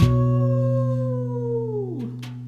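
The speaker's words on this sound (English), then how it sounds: "A lonesome howling cry." A lonesome, drawn-out canine howl with steady harmonics rings out close and loud, then bends downward and breaks into brief yips near the end, with no speech over it.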